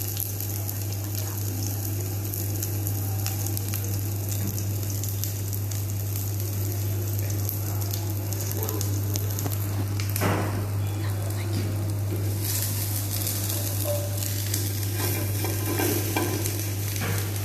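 Shallots dropped into hot oil in a hot pan, sizzling and frying steadily throughout, with a constant low hum underneath and occasional stirring scrapes; no talking.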